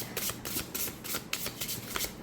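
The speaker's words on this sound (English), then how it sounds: "no issues with side or overhand shuffling" A deck of tarot cards is shuffled by hand, side or overhand style, in quick repeated riffling bursts at an even rhythm, close and fairly quiet, with no talking.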